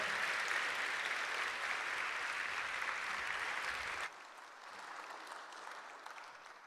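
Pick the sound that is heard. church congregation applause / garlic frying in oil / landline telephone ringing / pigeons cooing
church congregation applause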